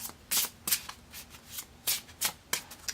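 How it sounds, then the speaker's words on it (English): A deck of tarot cards is riffled and flipped through by hand, giving a series of quick, close papery bursts in an irregular rhythm with brief pauses between them. "I already really shuffled the shit out of these cards before I started, but I'll just give it a couple more flip throughs."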